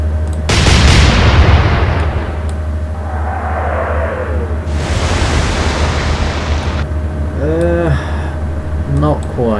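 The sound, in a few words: naval gun turrets firing in video game Atlantic Fleet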